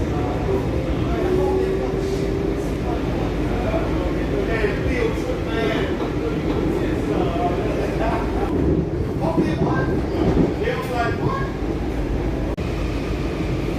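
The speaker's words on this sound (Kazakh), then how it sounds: "Біз Вашингтондағы метроға мініп көрейік деп көргенбіз" A Washington DC metro train rumbles steadily through a long stretch, with a constant low roar and occasional squeals, while people speak faintly nearby.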